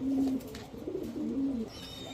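Soft, low cooing of white high-flyer pigeons close by, a few rolling coos in quick succession against faint background noise.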